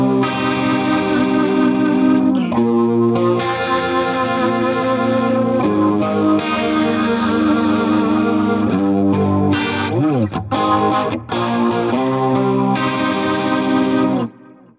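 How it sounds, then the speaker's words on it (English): Electric guitar played through a Marshall amp with a rotary effect, a loud, steady stream of sustained chords and melodic phrases with a swirling, modulated tone, dropping out briefly near the end. "So I'm going to let you hear the Marshall first."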